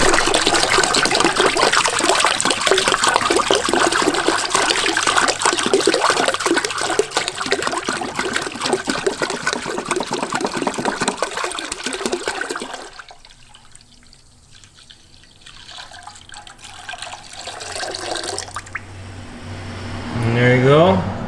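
Antifreeze coolant pours steadily from a jug into a 5-gallon bucket during a water pump removal on a 2019 E46 BMW 330xi. A continuous liquid rush lasts a dozen seconds, then stops, leaving quieter trickles and handling noises.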